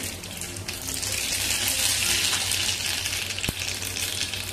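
Mustard seeds in hot oil sizzle and crackle in a steady, hissing rush, loud and close, with no voices.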